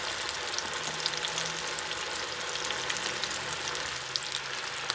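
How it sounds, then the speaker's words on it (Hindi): Chickpeas fry undisturbed in hot oil for a crispy chana chilli, giving a steady, dense sizzle with fine crackling that holds evenly throughout, close and alone with no voices. "इदां ही फ्राई हुंदे रहिण देना।"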